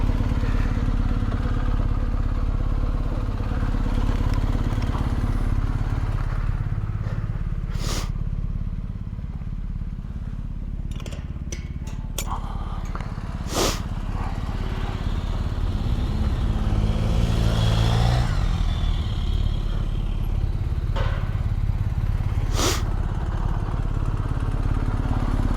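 A BMW R1250GSA motorcycle engine idles steadily up close for the whole stretch, a low continuous rumble with a few sharp clicks and clatters on top.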